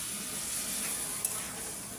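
A pan of dried fish curry gives off a soft, steady sizzle and hiss as a little water goes in, quiet and continuous with one brief spatter partway through.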